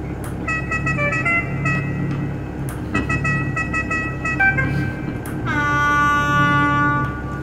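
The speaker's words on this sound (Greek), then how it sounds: "Κόρνα." Horn of a Ford Focus WRC rally car, several sustained honks with steady harmonic tones, the longest and loudest blast at the end, heard close over a low background rumble.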